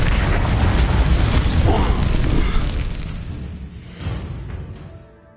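A booming fiery spell blast in Hogwarts Legacy on hard difficulty, a loud roaring whoosh that swells, rumbles for a few seconds, then fades with a smaller burst near the end.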